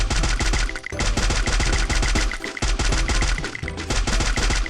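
Gunfire in the Free Fire video game: dense, rapid automatic bursts of shots, loud and nearly continuous with brief gaps.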